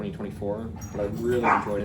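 Dogs in a home barking and whimpering, several short yips and whines close by, heard under a person speaking.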